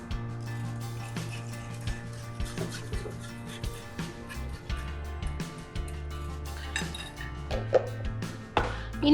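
Metal spoon stirring Nutrijel mango jelly mixture in a pot, tinted with yellow food colouring and heated to a boil, producing repeated clinks and scrapes against the pot in an irregular rhythm, close and moderately loud.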